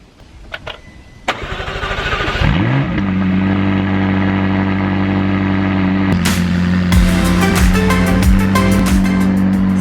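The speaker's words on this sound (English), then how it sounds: "Let's fire up that engine." A McLaren Senna's engine with vertical exhausts cranks over, fires with a sharp, loud catch and settles into a steady, deep idle, punctuated near the end by a string of crackles and blips from the exhaust.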